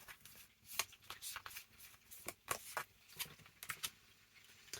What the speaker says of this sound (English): I'm just going to pull a few cards